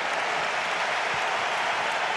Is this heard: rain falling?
no